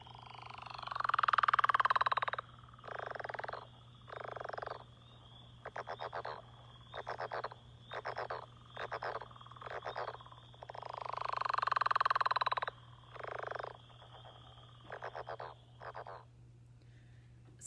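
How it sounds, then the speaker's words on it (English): A leopard frog call plays from an amphibian guide app: long, low rumbling snores alternate with short runs of hoarse, rapid croaks, repeated twice over a steady background hum, with no talking. "So that's what their calls sound like. It's kind of like a low rumbling sound with some hoarse croaks that they have in between there"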